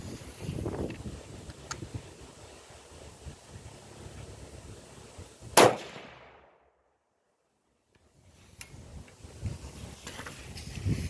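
A single sharp .308 Winchester rifle shot with a 51.2-grain handload of Hodgdon CFE223 powder cracks out loud and close, drops into near-silence, then outdoor wind and faint ambience return.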